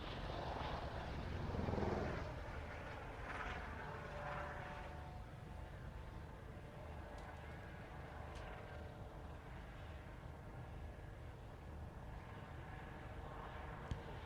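A solo display aircraft making a maximum rate climb at the RAF Waddington airshow, heard as a distant, droning engine roar that swells early and then holds as a faint, steady hum, with no talk.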